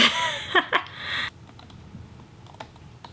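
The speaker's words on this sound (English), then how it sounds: "And this is how you type." Keys on an iPad Pro 11-inch (2020) Magic Keyboard click in a quick, uneven run of soft taps, close and moderately loud, following a brief rustle at the start.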